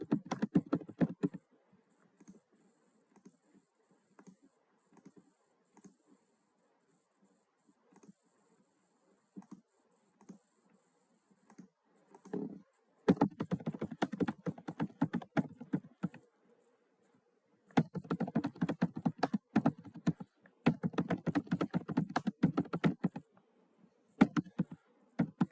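Computer keyboard typing, an application form being filled in, comes in bursts of rapid clicky keystrokes separated by quiet pauses, close and moderately loud, with no talking.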